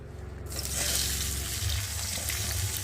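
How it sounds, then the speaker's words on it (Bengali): Chopped onions hitting hot oil with a bay leaf in a pan for a chicken dish, a sudden broad sizzle that rises and holds steady and close, no voices. "আর এখন দিয়ে দেবো পেঁয়াজ কুচি"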